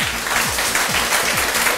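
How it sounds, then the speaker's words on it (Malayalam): A hall audience at a mind and memory talk claps in a dense, even wash of hands, loud and sustained with no voices over it. "ഒന്ന് നല്ല കൈയടി വിളിച്ചോളെ."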